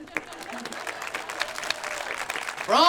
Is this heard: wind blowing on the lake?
no